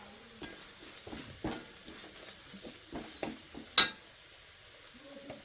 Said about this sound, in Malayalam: പിന്നെ നമുക്ക് ഇതൊന്ന് ഇളക്കി കൊടുത്തിട്ട്